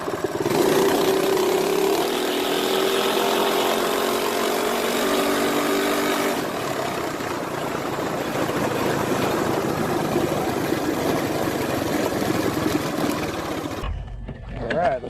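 A CT200U-EX minibike engine with a long intake manifold buzzes steadily as it accelerates from 0 to 30, its whine shifting partway through before cutting off near the end. It sounds loud and fairly close.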